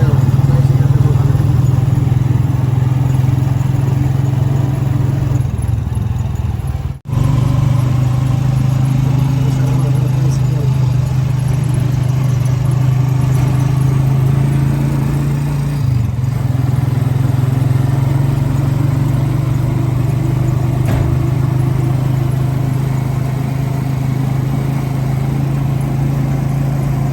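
A motorized tricycle's engine drones loudly and steadily during a ride, a continuous mid-pitched rumble with one brief dropout partway through.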